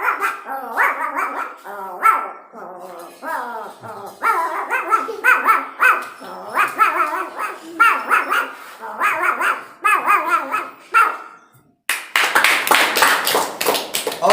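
A person vocally imitates a small village puppy, producing a rapid series of yappy barks and growly snapping sounds that mimic barking and biting, loud and close, ending in a burst of noisy clapping or tapping.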